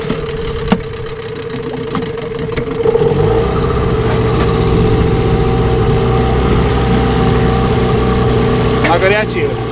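A Mikatsu 9.8 outboard boat motor runs steadily at idle, a continuous mid-pitched engine drone that thickens and grows slightly louder after a few seconds, with a faint voice in the background.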